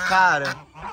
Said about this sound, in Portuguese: Gente, olha o ganso chamando o outro ganso.